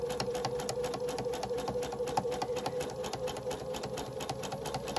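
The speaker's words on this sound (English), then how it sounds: "So I just line it up and sew it on." A sewing machine stitches binding onto a quilt, running at a steady fast clatter of needle strokes over a constant motor whir, close up and continuous, with no voices.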